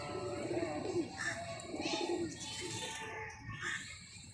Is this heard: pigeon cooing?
yes